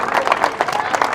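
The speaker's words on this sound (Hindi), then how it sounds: "अरे ताली बजा दो जोर से।" Crowd at an AAP political rally in Kasauli claps loudly and densely, a thick burst of applause with a few cheers mixed in.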